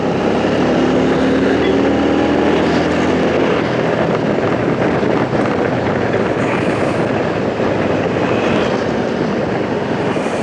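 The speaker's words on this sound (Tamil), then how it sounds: "காற்று பலமாக அடிக்குது. ஆக்சுவலாக விண்ட்ஷீல்டில் பட்டு நம்மளுக்கு ரொம்ப நாய்ஸியாக வருது." Strong wind blasts against a motorcycle windshield during a city ride near a river crossing, making a loud, constant roar of broadband rushing noise with no letup and no voices.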